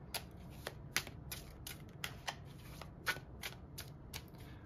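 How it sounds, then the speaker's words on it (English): Tarot cards from a larger-than-playing-card deck being shuffled, a soft riffle of light papery clicks and slaps repeating unevenly, close but quiet, with no voices. "Might be easier to shuffle it that way."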